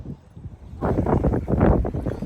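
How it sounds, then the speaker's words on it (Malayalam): Strong wind outside St. George's Market in Belfast buffets the microphone with a sudden loud, rough rush that keeps gusting. "നല്ല കാറ്റുണ്ട് കേട്ടോ"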